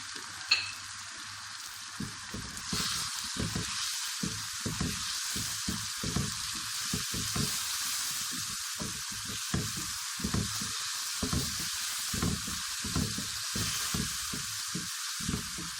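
Spices fry and sizzle in a pan for chickpea curry, making a continuous hiss broken by frequent rhythmic scraping and stirring strokes, close and steady, with no talking.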